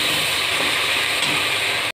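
Ground spice paste frying in a pan with salt, turmeric and a pinch of sugar, giving a steady, close hiss of sizzling oil that holds evenly throughout without any talk.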